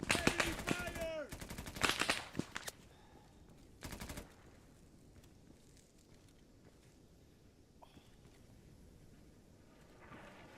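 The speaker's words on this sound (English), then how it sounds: "Enemy fire!" Rapid automatic gunfire in the ARMA 3 military shooter crackles in sharp bursts, loudest in the opening seconds, then a lone burst and fainter distant shots against wind noise.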